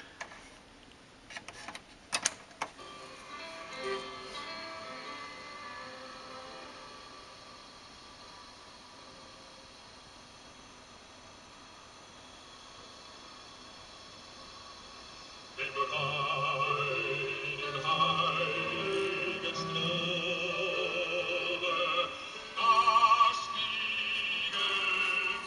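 Music sounds through a homemade speaker built from a styrofoam plate and scavenged wires, thin and tinny with a faint hiss. It starts quietly and then grows noticeably louder about two-thirds of the way through.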